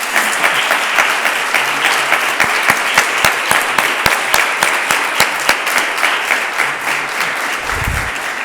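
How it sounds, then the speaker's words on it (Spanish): An audience at a conference on the European single market applauds a former president. Sharp individual claps stand out close by over a broad, loud wash of steady clapping, and a brief low thump comes near the end. "yo pediría un aplauso para ella"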